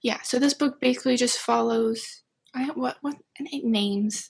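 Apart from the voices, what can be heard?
No everyday noise stands out behind the speech.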